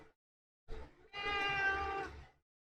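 A pet cat meows, a short chirp followed by a longer, drawn-out, tonal meow of about a second, close to the microphone in an otherwise quiet room.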